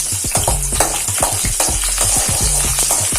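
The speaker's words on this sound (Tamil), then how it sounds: "ஆயில் ஹீட் ஆனோன்னு சின்னதாக நறுக்கி வச்ச பூண்டை ஆட் பண்ணிக்கோங்க" Finely chopped garlic fries in about five tablespoons of hot oil, giving a loud, continuous sizzle broken by repeated scraping stirs of a spoon in the pan.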